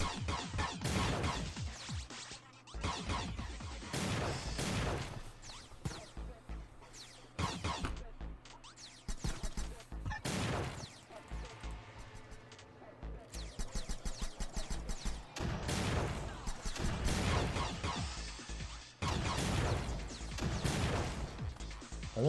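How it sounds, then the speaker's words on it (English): Heavy cannon fire in a modded video game, loud dense bursts of blasts and crashes repeating throughout with short gaps between volleys, no talking. "Almost out of shots on the cannon."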